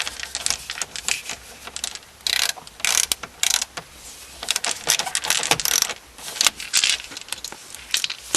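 Two screws are driven back in while a factory radio is reinstalled in a 2005 Mazda 3 dash, heard as close, irregular ratcheting clicks and small metallic taps in short bursts.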